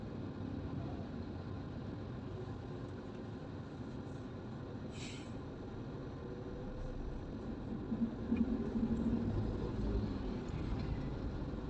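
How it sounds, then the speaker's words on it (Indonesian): Cars streaming slowly through a traffic jam, a continuous low rumble of engines and tyres that swells slightly near the end, heard from close by without any talking. "Sebelah kiri ini nggak ada berhentinya masuk mobil."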